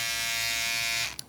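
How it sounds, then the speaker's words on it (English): A Manscaped electric shaver buzzes steadily and close up, a loud continuous motor whine that cuts off abruptly near the end, leaving a brief click. "This is the coolest shaver I've ever seen."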